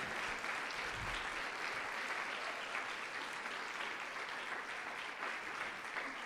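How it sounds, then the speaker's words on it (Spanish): Church congregation applauding during a worship service, dense sustained clapping from a large crowd, steady and moderately loud for several seconds. "Denle un aplauso al Señor."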